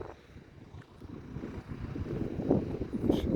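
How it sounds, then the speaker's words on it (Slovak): Wind gusts across a hilltop, buffeting the microphone with a low, rumbling roar that swells louder toward the end, and no voices are heard. "Fúka tu vietor, úplne hore na kopci."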